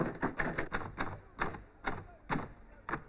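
A 1960s manual typewriter with sticking keys is struck in a series of sharp, uneven clacks, about eight distinct strikes spaced irregularly, close and fairly quiet in a still room.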